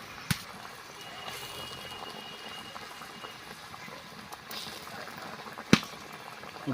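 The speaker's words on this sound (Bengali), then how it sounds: "এবারে দেখুন এই গ্রেভিটা ফুটছে" Fish curry gravy with fried fish pieces simmers in a pot, a soft steady bubbling with a few sharper pops, close and quiet.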